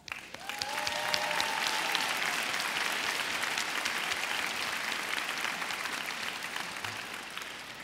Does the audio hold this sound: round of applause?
yes